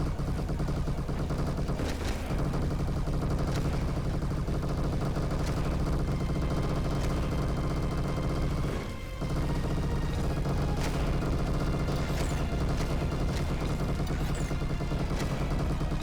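Continuous heavy gunfire fills a Destiny-style shooter battle: sustained rapid shots and impacts run almost without a break, loud and dense, with one brief dip partway through and no voices.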